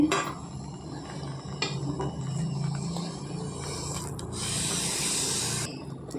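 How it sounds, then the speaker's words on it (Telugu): A steel pappu gutti masher works through cooked dal in a pot, giving steady scraping and rubbing strokes with light metallic clinks, close and continuous, ending in a brighter, rougher grinding stretch. "ఇప్పుడు పప్పు గుత్తుతో మెదుపుకుందామండి"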